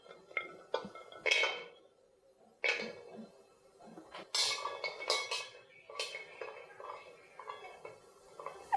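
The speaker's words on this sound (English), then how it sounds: "And now I'm going to mix all together the coriander seed, cumin, and white peppercorn. So keep stirring" A utensil scrapes and clinks in a pan while candlenut, coriander seed, cumin and white peppercorn are stirred over a medium flame, giving sharp, uneven knocks and clatters with quiet gaps between them.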